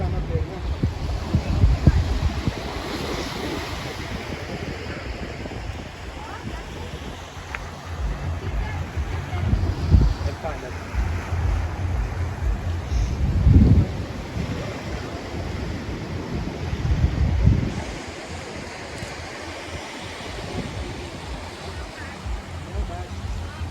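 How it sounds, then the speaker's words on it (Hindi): Waves and wind at Vagator beach in Goa around sunset, a constant roaring wash with wind noise on the microphone and several surges as waves break nearby. "This is kind of the end point of Vagator beach."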